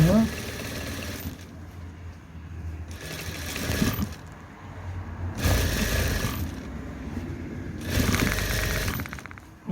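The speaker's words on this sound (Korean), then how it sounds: "이걸로다가 미싱하는 거예요" Sewing machine stitching around the hem of white suit trousers, running in four separate bursts of a few seconds each with quiet pauses between, fairly close and steady.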